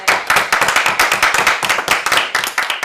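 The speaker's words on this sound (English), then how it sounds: "Can we round of applause?" A small audience at a school's virtual open evening claps in a steady, fairly loud round of applause, dense overlapping hand claps continuing without pause and with no talking over them.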